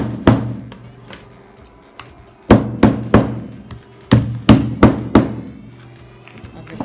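Sharp hammer blows striking car tire rubber, a single knock then quick bursts of three or four hits, loud and close with short ringing decays.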